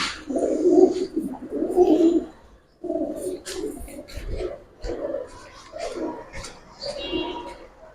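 Giribaz colouring pigeons coo close by in several rounded, throaty bursts with short pauses between them, and faint rustling and knocks from the birds underneath.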